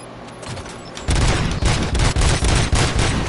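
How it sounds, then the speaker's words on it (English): Rapid gunfire erupts in the RoboCop video game, a dense fusillade of loud, closely spaced shots that starts abruptly about a second in and keeps hammering in quick bursts with no talking over it. "Gunshots? What's going on?"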